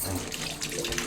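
Tap water runs steadily over kudampuli (Malabar tamarind) being washed at a kitchen sink while a fish curry is prepared, a brief close splashing stream with no talk.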